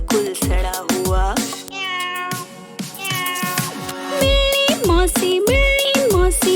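A cat's meow voiced in a Hindi children's nursery rhyme, a string of bright, tuneful mewing calls in a quick, bouncy rhythm over a musical backing, loud and close.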